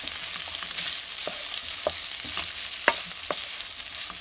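Already-cooked meat frying in about a teaspoon of oil with black pepper, a steady close sizzle broken by scattered small pops and occasional scraping stirs.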